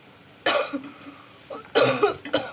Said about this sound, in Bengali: ঝালের গুঁড়ো দিয়েছে, যার জন্য কাশি হচ্ছে।